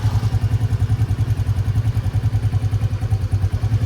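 A motorcycle fitted with a Hypertech 32mm back-pressure exhaust idles nearby, its engine putting out a steady, rapid low thumping pulse that stays even and loud throughout.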